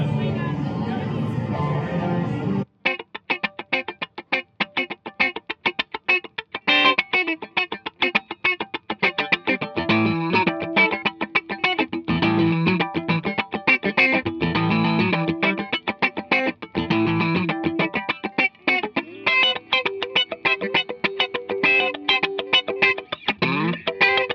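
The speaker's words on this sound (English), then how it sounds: "This is based on a Dynacomp type compressor that we made very, very clean and quiet." Electric guitar through a very clean, quiet Dynacomp-type compressor pedal, played in choppy rhythmic chords and single notes with sharp attacks, loud and close after a brief burst of voices at the start.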